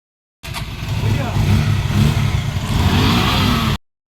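One of four motorcycles setting off on a weekend family ride starts up and revs, a loud, close engine roar that runs steadily for a few seconds and then cuts off abruptly.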